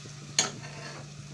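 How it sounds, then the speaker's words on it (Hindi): Beef fries in a karahi with a low steady sizzle, punctuated by one sharp scrape of stirring near the start that fades back into the quiet hiss. "बीफ की अच्छी तरह भुनाई करेंगे"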